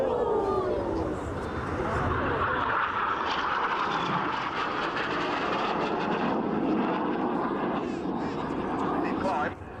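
Red Arrows jets flying an airshow display at RAF Leuchars, with a steady, loud roar of engines sweeping overhead throughout, crowd and wind noise mixed in.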